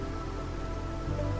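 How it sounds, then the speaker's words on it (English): Drizzle rain falling in the Against the Storm video game, a steady, even patter with a low ambient hum beneath, continuous and unbroken. "And we're back in Drizzle again."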